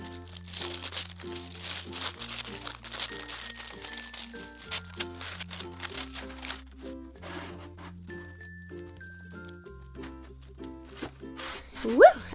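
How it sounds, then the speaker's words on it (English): Parchment paper crinkles and rustles in soft, repeated handling as a Fruity Pebble marshmallow krispie treat is rolled up, sitting under steady background music with a louder crinkle near the end. "You can use the parchment paper to help guide the roll."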